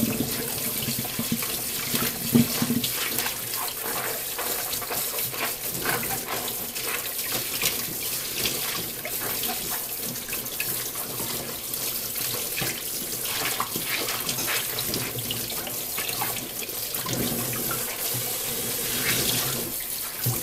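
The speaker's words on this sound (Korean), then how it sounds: "이제 물로 헹궈 주기만 할게요." Goalkeeper gloves being rinsed under a running tap, a continuous steady splash of water into a sink lasting throughout, with no talking.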